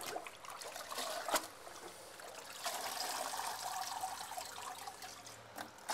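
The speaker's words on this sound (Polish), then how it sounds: "I pokażę teraz, jak prawidłowo wypłukać, jak bardzo należy płukać te wkłady." Aquarium filter cartridges rinsed in water, giving a steady trickling, splashing wash with a few sharper sloshes, close and continuous without speech.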